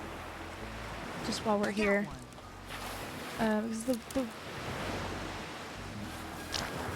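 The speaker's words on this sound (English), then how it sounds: "I keep being louder because I'm trying to go over the water noise" Ocean surf from a beach scene in a Nancy Drew video game washes steadily in the background, a soft continuous rush under a person talking.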